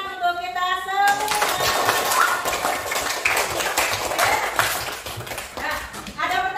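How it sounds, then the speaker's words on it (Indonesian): Applause from a classroom of children breaks out loud and dense after a teacher's brief spoken cue, a sustained wash of clapping lasting several seconds. "Tepuk tangan untuk kita semua."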